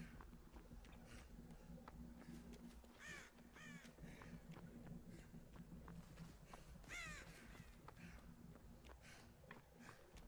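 Birds cawing in a video game: crow-like calls repeat in short bursts, fairly clear above a steady low background hum, with no talk.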